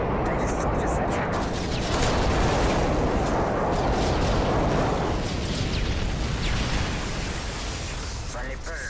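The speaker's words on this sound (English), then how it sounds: "Friendly airstrike on the way." Airstrike explosions on the Seatown map in Call of Duty: a long, loud barrage of heavy blasts and rumbling detonations rolls on continuously, tapering slightly at the end.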